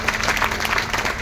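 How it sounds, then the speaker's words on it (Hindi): An audience at a motivational talk applauds, a dense steady patter of many hands clapping close by. "थोड़ी ताली हो जाए इसके लिए।"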